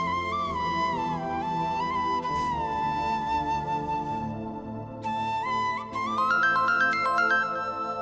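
A phone rings with a loud, melodic electronic ringtone that plays continuously for several seconds.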